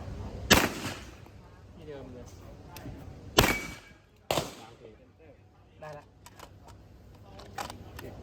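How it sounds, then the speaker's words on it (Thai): Three sharp handgun cracks ring out several seconds apart during a shooting drill, the last two close together, with quiet voices talking in between. "ผม ยิงปืนครับ"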